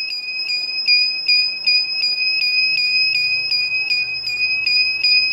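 A high-pitched electronic alarm beeps in a rapid, steady repeating pattern, loud and continuous throughout with no voices.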